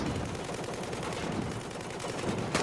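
Cannon fire in Battlefield 4, a steady dense barrage of rapid shots and booming reports at moderate level throughout, with no pauses in the short stretch.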